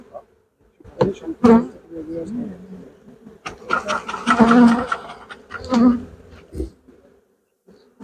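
Honey bee colony buzzing during a hive inspection in a Ukrainian-style hive, a steady drone rising and falling with handling noises and someone talking over it.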